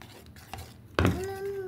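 Sugar and cornflour mixed with a spoon in a bowl, soft scraping strokes followed by a sharp clink that rings on, with faint voices in the background.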